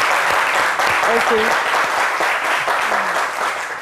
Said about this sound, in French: On peut l'applaudir, il va se lever, on va l'applaudir.